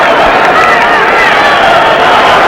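A crowd of 29,000 at Highbury for Arsenal against Queen's Park Rangers in 1974 makes a steady, loud roar of murmur and distant cheering, with no single voice standing out.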